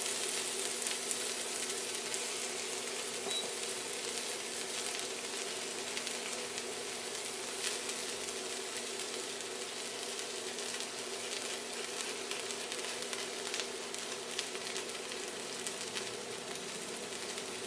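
Onion and grated ginger fry in a greased wok, giving a steady, soft sizzle with fine crackling that runs evenly throughout, fairly quiet and without any voices.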